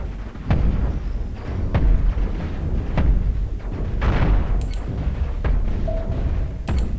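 Spaceship cannons firing in the Cosmoteer video game, a series of heavy thumping blasts at uneven intervals over a loud continuous rumble, with a few brief high chirps.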